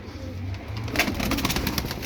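Blue pigeons in a Turkish flock, including tumbler types, coo in a low soft murmur close by, with a brief rustle of wings or movement midway.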